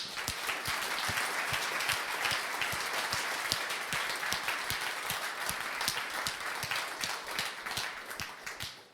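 Meetup audience at a tech talk applauds, a sparse room of hands clapping steadily for several seconds with distinct individual claps audible, fairly quiet and distant, no talk over it.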